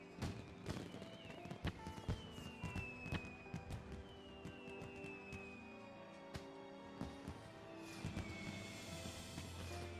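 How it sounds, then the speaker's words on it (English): Fireworks in the video game Final Fantasy XIV crackle and pop in a dense run of sharp bursts, with whistling rising streaks and a steady musical backdrop, fairly loud throughout. "Fireworks."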